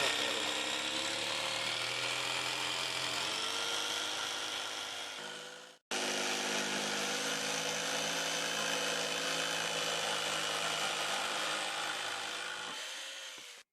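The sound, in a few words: cutting wheel arch opening in campervan side panel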